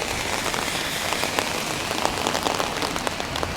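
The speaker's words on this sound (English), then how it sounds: "I bet you can hear that rain." Heavy rain falls on a city street in Halifax in the dark early afternoon, a loud, dense, continuous hiss of drops hitting pavement and surfaces close by, with scattered sharper splats and no talking.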